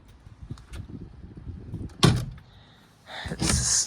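A door on a door closer swings shut with a sharp knock partway through, followed by rustling and a brief mechanical hiss, among faint handling noises.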